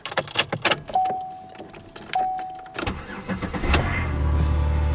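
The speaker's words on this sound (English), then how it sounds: "look how good this car runs now" A 2010 Chevrolet Impala, just repaired for wiring faults, with keys jangling and interior clicks before its engine cranks and starts, then settles into a steady, close idle.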